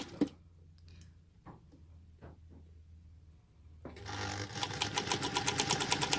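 A sewing machine sews scant quarter-inch seams joining square and triangle pieces of a saw tooth quilt block. A few clicks and taps come first, then the machine runs steadily and close, its needle chattering in a fast even rhythm.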